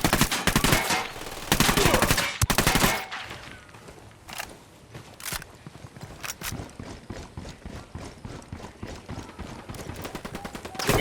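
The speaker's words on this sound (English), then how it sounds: "Estamos bajo el fuego de armas enemigas y no sabemos cuántos son." Enemy weapons firing in the Ghost Recon Wildlands video game, a dense run of loud gunshots and rapid machine-gun bursts, briefly easing before fast automatic fire resumes near and continuous.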